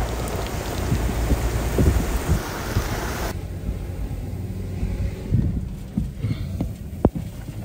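Steady heavy rain pours through a supercell thunderstorm as it wraps around a developing tornado, a dense wash that eases after a few seconds, with faint rumbles and scattered drops and no talk.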